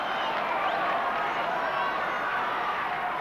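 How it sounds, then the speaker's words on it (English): A rugby league crowd at a 1982 Canterbury Bankstown versus Penrith Panthers match roars for a penalty, a dense continuous wall of distant voices and shouting with no break. "Canterbury crowd calling for the penalty for a deliberate forward pass"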